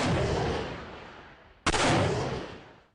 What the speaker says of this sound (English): On the hill above, soldiers fire rockets over the civilians' heads into the city.